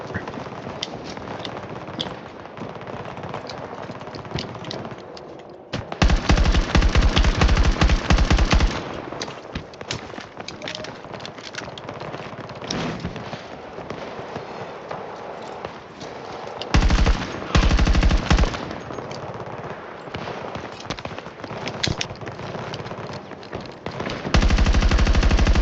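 Battlefield 2042 gunfire: long loud sustained automatic bursts alternate with quieter stretches of scattered shots and game noise, with a voice talking at times.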